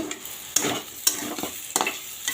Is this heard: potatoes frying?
yes